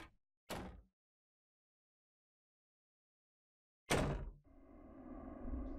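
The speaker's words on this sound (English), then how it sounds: "Press space the second time you hear the two door slams." Two heavy door slams in the horror game Ao Oni, each a sharp single thud separated by a long silence, the second followed by a low sustained droning tone.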